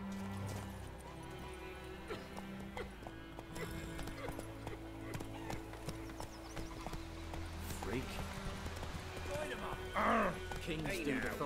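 Horse hooves in The Witcher 3: Wild Hunt, a steady clip-clop of riding with a whinny near the end, set against game music and someone talking.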